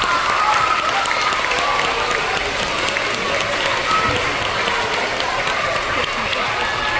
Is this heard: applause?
yes